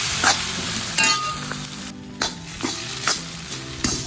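A spice masala with salt and turmeric fries loudly in a pan for a crab dish, the close, hissing sizzle broken by regular spatula strokes about every half second to second.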